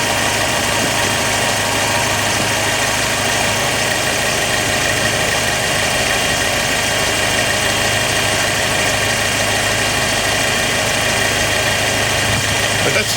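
A steady, close 2012 Chevrolet Cruze turbo engine with a leak idles evenly throughout, a constant low rumble with a faint mechanical hum and no revving.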